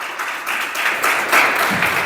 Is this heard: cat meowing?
no